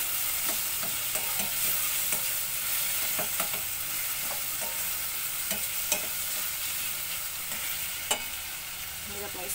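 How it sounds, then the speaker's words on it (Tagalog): Tomato is crushed and stirred in a sizzling frying pan, a constant hiss with scattered scraping taps from the utensil, close and fairly quiet. "Durugin natin ang kamatis."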